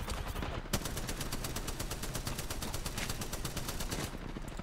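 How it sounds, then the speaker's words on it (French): Video game gunfire aimed at the player, a rapid automatic burst of evenly spaced shots lasting several seconds, loud and continuous. "Watch out, y'a quelqu'un qui me tire à l'instant."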